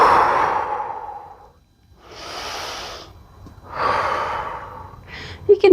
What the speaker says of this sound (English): Take a few rounds of breath.